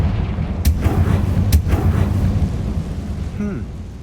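A Confringo spell explosion in Hogwarts Legacy, blasting a barricade, with two sharp booming bursts over a loud rumbling game backdrop and a brief whooshing effect near the end.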